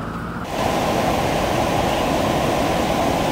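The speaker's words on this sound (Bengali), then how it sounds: "ড্যামের এখান থেকে উপচে পড়া জল" Water spills over the Panasua Dam as a steady, loud roar of broadband rushing noise that begins abruptly after a brief quieter moment and then holds constant, with no voices.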